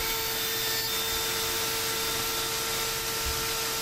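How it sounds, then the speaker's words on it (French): A steady, even whir of a dust extraction vacuum runs continuously throughout, with a constant hum and faint rubbing noises underneath, no voices present. "Le dispositif d'aspiration fonctionne vraiment très très bien."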